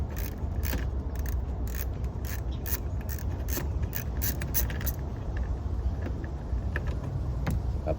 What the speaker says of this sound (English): go ahead and take out the 2 center bolts right there